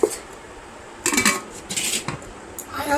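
Cooked rice being served onto plates: short bursts of clattering utensils and dishes, close and fairly loud, with quiet gaps between them and no talking.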